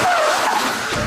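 Car tires skid and squeal loudly through an evasive lane change manoeuvre on a test road, a continuous harsh screech with a wavering pitched whine and no voices.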